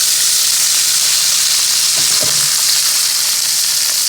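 Bacon frying in a skillet on a stovetop, cooking for cabbage: a loud, steady, close sizzle of hot fat crackling throughout, with a faint clink partway through.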